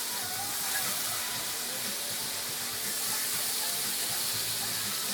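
Chorizo sizzles in a frying pan as it is flipped, a steady close hiss of frying with faint clatter, no talking.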